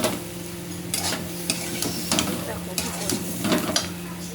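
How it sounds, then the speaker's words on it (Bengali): Sugar and cumin powder stirred in a pot while cooking khichuri with gobindobhog rice and moong dal, a soft scraping stir with light sizzling and a few sharp clinks of the spoon against the pot. "এবার আমি নাড়াচাড়া করবো এগুলোতে"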